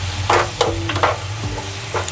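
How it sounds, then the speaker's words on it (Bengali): Ginger garlic paste fries in hot oil while a spoon stirs it, with a soft steady sizzle and a few scraping strokes against the pan, close and fairly quiet with no talk. "আদা রসুন পেস্টটা দিয়ে এভাবে ভালোভাবে নাড়তে হবে,"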